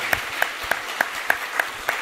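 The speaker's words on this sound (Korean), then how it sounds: "격려의 박수 부탁드립니다" Claps of encouragement from a church congregation at a teacher-blessing Sunday service, heard as about seven evenly spaced, fairly soft claps in a steady rhythm with no talking.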